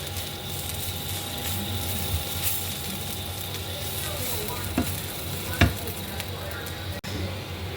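Beef masala with Kashmiri chilli and salt sizzles steadily in a pan while it is stirred, with a few sharper scrapes of the utensil against the metal standing out near the end.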